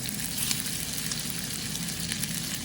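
Sausages sizzle in a pan of butter and olive oil, a steady close crackle and hiss running evenly throughout with no talking.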